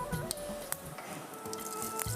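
Mustard seeds and cumin sizzle steadily in hot oil while being tempered on a gas stove, with a few sharp pops and faint utensil clinks.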